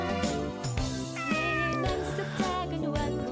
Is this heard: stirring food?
no